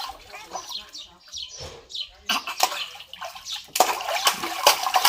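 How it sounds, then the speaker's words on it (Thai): People bathe outdoors in rural Thailand or Laos, splashing and pouring water in repeated bursts that grow louder toward the end, with voices talking and birds chirping in the background. "อาบน้ำกันนะพี่น้อง"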